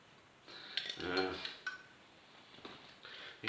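A brand-new Chinese knockoff Trangia alcohol stove is opened and handled, giving a few light metallic clinks and rattles close by, with a burst of clattering in the middle, while someone talks over it.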